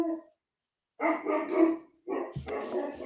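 A pet dog barks indoors, a short yip followed by two bursts of loud, close barking separated by brief pauses.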